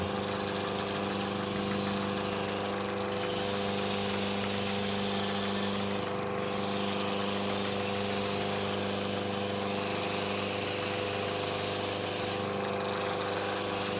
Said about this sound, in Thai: ทีนี้กระดาษทรายละเอียดแต่งนิดนึง